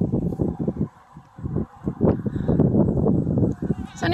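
Goats bleat repeatedly during rut, with bucks and does in heat calling in a dense run of overlapping, nasal bleats and grunts, close and loud, with the calls following one another in quick bursts.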